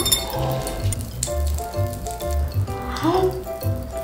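Popping candy crackles and fizzes at close range in a steady sizzle, with a few light clinks and faint voices in the background.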